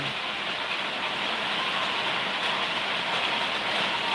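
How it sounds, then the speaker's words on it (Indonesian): Steady, dense rain falls hard and close in Padang, a continuous hiss with no break and no talk over it. "Padang hujan."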